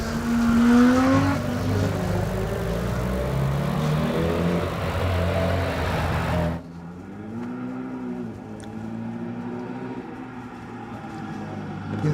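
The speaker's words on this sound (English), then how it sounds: "Gavin Molden's Datsun 1600 is charging up there now, the bright orange Datsun" A bright orange Datsun 1600 race car climbing a hillclimb course, engine note rising and falling through gear changes, fairly loud and then cutting abruptly to a quieter, distant whine.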